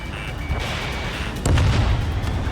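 Missile blast in Ace Combat 7: a steady aircraft roar is broken near the end by one sharp, loud boom whose rumbling burst carries on to the finish.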